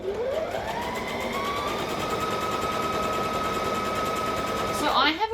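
A sewing machine stitches steadily around a fabric circle for a dice bag, its close, rapid motor whine holding level for several seconds before slowing and stopping with a short clunk.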